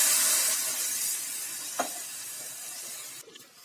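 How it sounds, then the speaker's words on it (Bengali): Water poured into sizzling masala for egg curry in a pan, a steady bright hiss that fades to a softer simmer, with a brief splash near the middle and a faint clink toward the end. "এর মধ্যে আমি এবার দিয়ে দিচ্ছি পরিমাণ মতো জল।"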